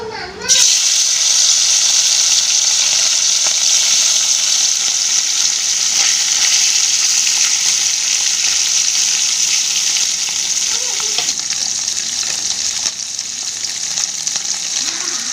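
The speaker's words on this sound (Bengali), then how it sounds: "কড়াইতে তেল দিয়ে দিয়েছি, এবারে মাছগুলোকে ভেজে নেব।" Chenga fish frying in hot oil in a wok, a loud, steady sizzle that carries on without a break from start to finish, with faint stirring now and then and no talk over it.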